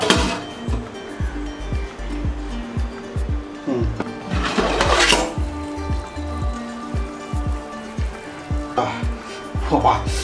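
Dindigul-style mutton biryani masala bubbles and sizzles in a pot, with rapid popping and spitting close by, swelling into louder bursts at times while a person talks intermittently over it.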